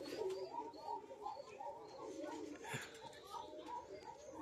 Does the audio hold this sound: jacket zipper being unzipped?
no